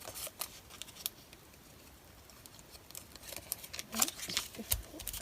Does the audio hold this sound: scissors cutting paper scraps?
yes